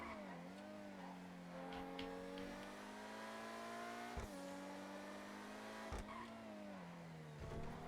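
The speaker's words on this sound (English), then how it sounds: "see if I can drive and go super slow" A car engine in a GTA racing game on a custom-built turnpike, held at a steady low drone with harmonic whine that rises and dips slightly, with brief clicks and thumps, loud and continuous throughout.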